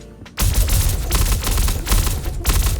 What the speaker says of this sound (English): It took about 3 burst shots to down this individual